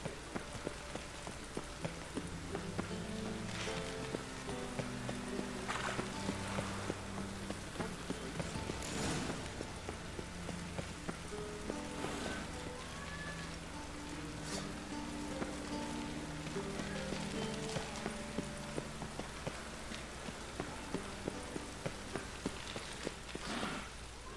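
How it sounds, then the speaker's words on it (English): Steady rain falls in a city street scene in The Witcher 3, a constant wet patter filling the space with faint footstep-like taps and low game music underneath. "I like rain. Keeps the roads indoors."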